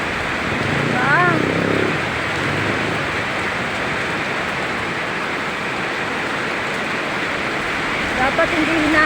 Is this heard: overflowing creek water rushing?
yes